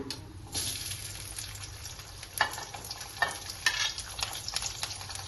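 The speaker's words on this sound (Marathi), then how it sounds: "मी मोहरी टाकते 1 चमचा, छोटासा चमचा आहे मसाले. जिरं टाकते" Mustard and cumin seeds sizzle in hot oil with a steady broadband crackle, punctuated by a few louder spattering pops toward the middle and end, with no talking.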